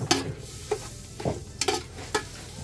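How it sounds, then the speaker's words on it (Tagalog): Garlic and onion being sautéed in a pan for a Bicol-style shrimp sinigang, with a steady close sizzle broken by sharp scraping stirs of a utensil against the pan, no talking. "Gigisa muna po natin ng bawang sibuyas."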